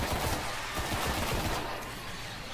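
Enemy ship fire in the video game Destiny: a dense, loud burst of rapid gunfire crackling continuously with no talk.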